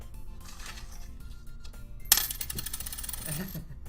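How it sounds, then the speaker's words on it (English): Coins spilling from a coin purse onto a desk in the Doki Doki Literature Club video game, a sudden bright metallic clatter that rings briefly and settles, following a quieter stretch. "Only 2 small coins fall out."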